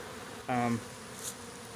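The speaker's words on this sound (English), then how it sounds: "But that is a lot of bees." Honey bee swarm near a hive gives a brief, close tonal buzz lasting about a quarter second, standing out over a faint steady background hum.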